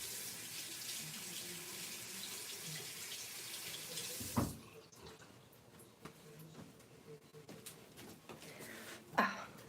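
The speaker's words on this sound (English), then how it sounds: "So I'm gonna rinse my hand off real quick." Water runs steadily from a bathroom tap as a soapy hand is rinsed under it in a hotel room, a continuous hiss that cuts off midway, followed by a few faint drips and bumps.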